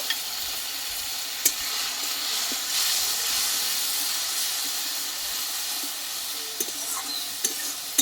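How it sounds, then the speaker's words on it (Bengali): Ground coriander and Kashmiri red chilli powder fry with a splash of water in a pan, giving a steady bright sizzle and hiss throughout, with a few sharp clicks of a spoon stirring. "এবার অল্প একটু জল দেবো দিয়ে মশলাটা ভালোভাবে কষিয়ে নেব"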